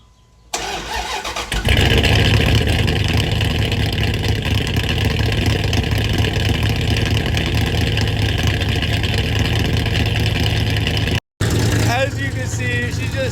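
A car engine cold-starts after a brief crank, catches at once, then settles into a loud, steady, rumbling idle up close that carries on for more than ten seconds with a short cut near the end.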